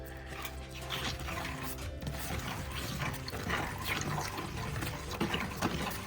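Plaster mix is stirred in water for a sculpture mould cast. The sound is a continuous near, soft sloshing and scraping with a loose rhythm. It stays quiet and steady throughout, with no talk.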